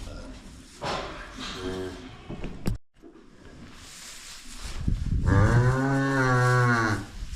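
An unhappy cow on a farm lets out a short moo, then a long, loud, close bellow near the end, with a brief dog-like yelp partway through.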